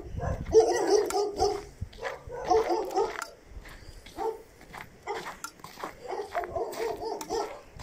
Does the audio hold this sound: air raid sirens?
no